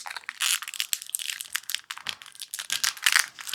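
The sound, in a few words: unwrapping plastic wrap from Pokémon card box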